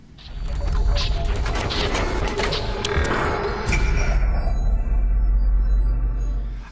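A Samsung Galaxy S III Mini retail box being opened up close, with loud scraping, sliding and clicking cardboard and plastic handling that fades to near quiet at the end.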